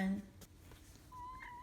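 A cat meows a couple of times at close range, with the first cry loud and tonal, followed by softer later calls while someone talks over the scene.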